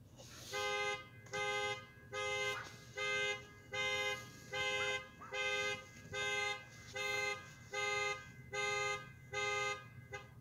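A car horn honks about thirteen times in a steady, evenly spaced rhythm, each blast a sustained, buzzy tone of similar loudness, set against faint background noise.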